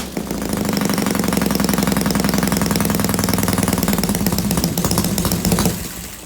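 A homemade Soviet-era chopper motorcycle engine with a scrap-metal internal throttle runs steadily with a fast, even putter, loud and close, holding its pace for several seconds before cutting off near the end.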